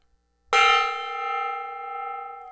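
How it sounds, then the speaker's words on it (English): One strike on a small gong in a home workshop rings out close and clear, a bright metallic onset that settles into a long, sustained shimmering tone slowly fading over two seconds. "So I'm going to hit this gong that I own"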